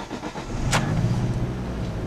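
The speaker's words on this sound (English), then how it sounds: "You can hear it's got a pretty mean sounding exhaust. That is the factory stock exhaust for this vehicle" A stock factory exhaust on a 2004 Ford Focus SVT with a six-speed manual gives a steady, close, low engine drone with a short brighter burst partway through, and no talking.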